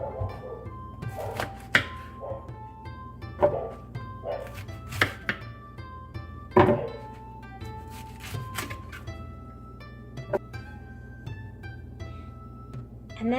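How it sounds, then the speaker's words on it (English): A knife chops a block of sticky rice into pieces on a board, a series of irregular, fairly quiet thunks and taps spaced a second or two apart. "I'm going to be cutting this up into pieces so it's a little bit more manageable for my blender"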